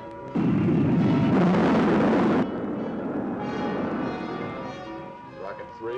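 Rocket second-stage firing from the 1958 film War of the Satellites: a loud, dense roaring blast lasting about two seconds, then fading into a quieter rumble with tonal music-like sound.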